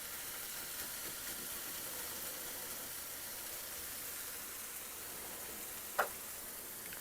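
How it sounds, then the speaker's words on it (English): Eggs simmering in a pan, browning as they cook: a steady, faint sizzling hiss runs throughout, with one brief louder tick or pop near the end. "Just let them simmer for a minute."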